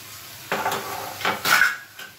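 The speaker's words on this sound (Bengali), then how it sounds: "জলটা ফুটে গেছে, এবার আমি মাছগুলো দিয়ে দেবো এক এক করে।" Tilapia fish slipped one by one into a pot of boiling water for a thin curry, giving a few short splashy hisses and a light clink of pot or utensil close by, with no talk.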